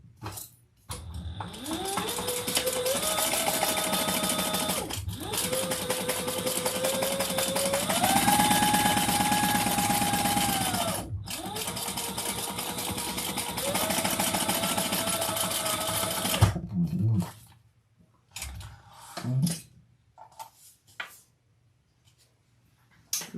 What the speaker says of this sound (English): let's stitch all the way around this little guy